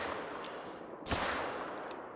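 A single rifle shot fired at a deer in theHunter: Call of the Wild during a hunt in Australia, one sharp crack near the middle followed by a short rolling echo over steady outdoor ambience.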